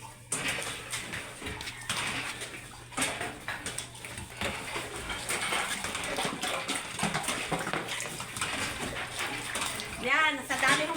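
Water pours and splashes into buckets for pigs on a rural farm, a steady rushing flow under a person talking throughout, with a few louder splashes near the end.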